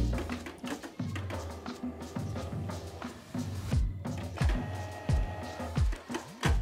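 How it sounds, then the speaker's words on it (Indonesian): A Canon MP287 inkjet printer, one showing error 5B00, runs its mechanism nearby with whirring motor sweeps, rising and falling drive tones and repeated clicks and clunks in an uneven rhythm. "jadi di sini saya akan melakukan mencetak pada printer ini"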